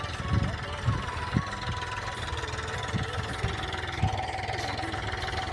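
A farm tractor idles nearby with a low, steady chugging throb and occasional knocks, while voices talk over it.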